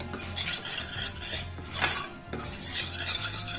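A utensil scrapes and clinks against a pan as chili powder is stirred into a paneer butter masala base with jaggery, repeated close scraping strokes with a brief lull midway and no voices.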